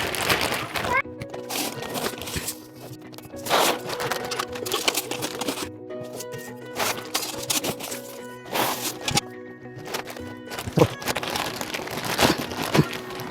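Wheat grain is poured into a plastic storage bag, producing an irregular, crinkling rustle with bursts of rattling grain, moderately close and quiet.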